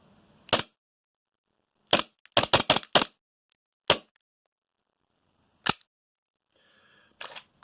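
A Guarder Glock airsoft pistol fired on gas with an empty magazine, sharp dry cracks alone in silence: a single shot, a quick burst of several, then isolated pops spaced seconds apart.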